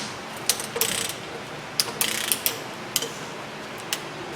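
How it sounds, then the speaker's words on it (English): Ratchet clicking on tight factory exhaust manifold bolts of a 6.7 Powerstroke diesel, bursts of sharp pawl clicks in short uneven pulls with pauses between, close and fairly loud. "And it's struggling with this ratchet."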